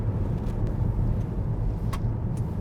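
A 2017 Subaru Forester or Ford Escape accelerating hard in sport mode, a steady close engine drone and road roar from inside the cabin, without pause.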